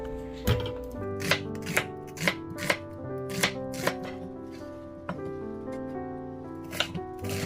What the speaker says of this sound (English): Now let's cut our onion.